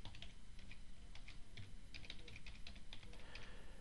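An email address is typed on a computer keyboard: soft, quick key taps in an uneven patter, faint and close against a low background hiss, with no talking.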